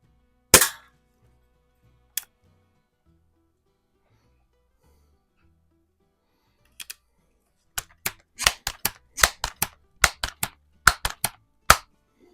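Pellets from a Crosman 760 air rifle strike a metal can, making sharp, clean cracks: a few isolated shots, then a fast run of about a dozen evenly spaced hits, with no voices.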